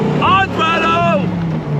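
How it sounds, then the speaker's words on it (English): A 1993 Dodge Viper RT/10's V10 engine roars through side-exit pipes, loud and close, with a rising then falling rev under wind rush from the open car. "Love the sound of that V10 coming out of the side pipes."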